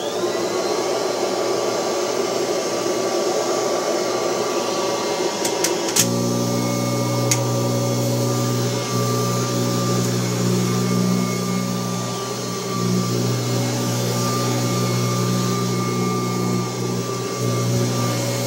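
A Kirby Heritage 2 vacuum cleaner fitted with a new bag, running with a loud, steady motor whine and hum that shifts pitch once early on, then drones on unbroken close by with no talk.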